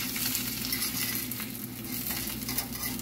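Eggs fry in an unseasoned pan with a continuous, close crackling sizzle, steady and busy throughout, with no voices.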